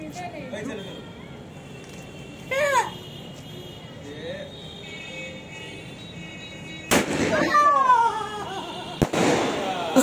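A 4x5 Penta Missile Diwali firework launches with a sudden loud whoosh and crackling burst, then a second sharp bang follows. A person talks before the launch.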